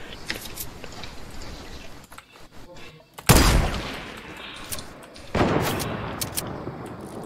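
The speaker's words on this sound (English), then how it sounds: "Shots fired." Gunshots in Fortnite: two loud, close blasts a couple of seconds apart, each trailing off, with smaller clicks and rustles in between.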